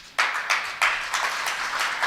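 Scattered audience clapping at a Jain religious discourse, coming in several distinct bursts of a few hands that swell and fade, moderately close and without talk over them.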